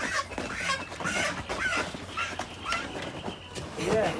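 Chickens cluck intermittently on a Jamaican poultry farm, moderately close, while people talk over them throughout.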